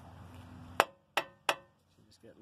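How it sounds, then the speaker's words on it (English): Three sharp metallic taps ring out as a hammer strikes the tie rod on a 2010 Mazda CX-7, close and loud, evenly spaced with short ringing decays, then a faint murmur at the end. "I'm just going to tap with a hammer."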